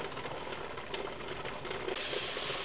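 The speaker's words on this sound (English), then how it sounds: "Now the steam's coming out the front." A pressure canner loaded with ground beef vents steam in a steady, close hiss with light mechanical rattling, and the hiss grows brighter and stronger toward the end.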